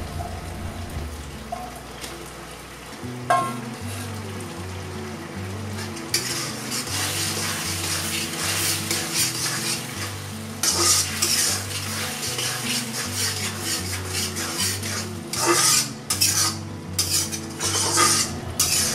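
Vegetable Manchurian balls cooking in gravy in a pan, heard as close, busy clattering of a utensil against the pan with bubbling sizzle underneath, over steady music.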